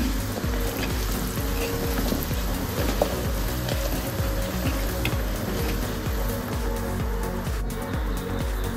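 Red chilli powder, turmeric and asafoetida sizzle steadily in hot oil for a chivda tempering, a dense continuous frying hiss with occasional stirring scrapes, close and even.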